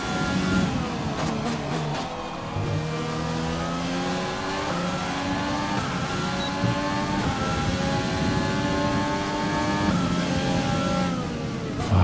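F1 car leaving the pits in the racing game F1 2020, a steady mid-pitched engine drone with rising and falling whine as it accelerates, continuous and fairly loud throughout with no talk.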